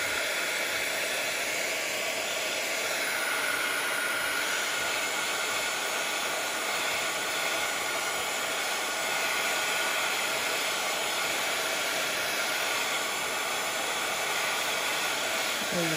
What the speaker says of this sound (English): now we're ready for a heat tool, and we're going to dry